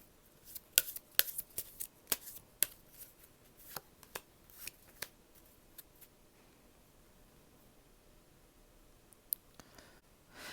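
Tarot cards being shuffled for another draw: a run of soft, crisp card riffles and clicks in the first half, quiet and close, then near-silence with a couple of faint taps near the end.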